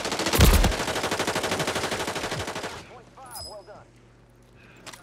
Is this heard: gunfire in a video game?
yes